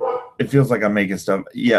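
A pet dog barks and yips in short bursts under continuous close speech, its voice partly masked by someone talking.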